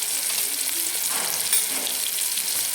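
Tomatoes with turmeric, homemade black masala and Kashmiri red chili powder sauté in a pan for cabbage chutney, giving a continuous close sizzle with soft stirring scrapes.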